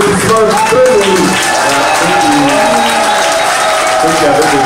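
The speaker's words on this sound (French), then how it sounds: "Évidemment, sur les applaudissements très nombreux." Dense crowd applause and cheering at a Congolese diaspora gathering in Washington as President Félix Tshisekedi departs, steady and loud throughout with voices calling out in the crowd.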